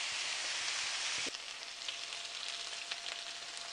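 King fish frying in oil in a pan crackles with a dense, steady sizzle that drops a little partway through, then carries on more softly with scattered pops.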